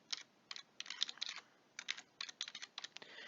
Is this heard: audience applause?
no